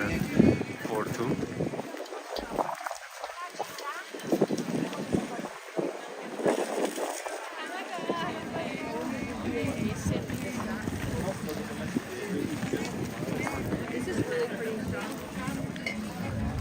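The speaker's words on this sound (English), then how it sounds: "Yes, it became very windy, Green Sprout." Wind gusting through an outdoor Christmas market in Porto, buffeting the microphone with a continuous rough roar that surges and eases but never stops.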